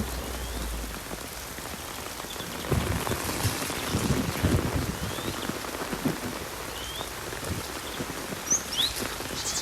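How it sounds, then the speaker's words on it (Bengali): Heavy rain pours at a riverbank ghat on the Ganges, a dense steady patter of drops on surfaces that swells louder midway, with no talk. "বহুত জোরে বৃষ্টি পড়ছে, দেখতেই পাচ্ছ।"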